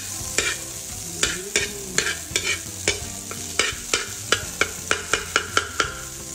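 Fried rice cooked with butter in a pan: a steady sizzle under repeated sharp spatula scrapes and taps against the pan, coming in an irregular, quickening rhythm, close and clear with no talking.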